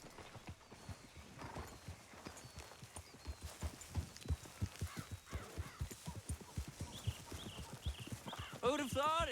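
Steady clip-clop of horse hooves trotting in a quick rhythm in Red Dead Redemption 2, with a whinny and bird calls mixed in near the end.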